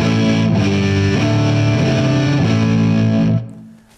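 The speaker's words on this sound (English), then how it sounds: "with both sides exactly the same, here is the blue channel." Electric guitar driven through the blue channel of a Suhr Eclipse overdrive pedal into a Matamp GT20, loud distorted chords strummed several times and ringing, then cut off near the end, heard alone.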